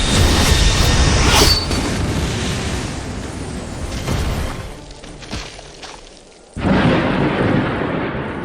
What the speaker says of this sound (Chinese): 雷声太大了，我很害怕。